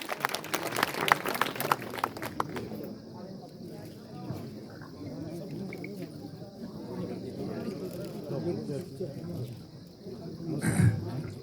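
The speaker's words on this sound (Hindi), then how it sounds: "जोरदार तालियां एक बार माननीय विधायक जी के लिए।" Applause for an MLA at a hospital naming ceremony in Rikhnikhal, a burst of many hands clapping in the first couple of seconds that fades into crowd murmur and talk, with a short loud knock near the end.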